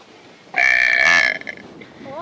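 One loud, long, deliberate burp rumbles close to the microphone for almost a second, followed by a brief voice afterward.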